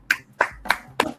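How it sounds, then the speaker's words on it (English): Four separate hand claps ring out in a slow, uneven rhythm, each a sharp close snap with a short decay, heard alone without any talk. "Clap, everybody, clap."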